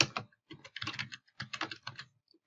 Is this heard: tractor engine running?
no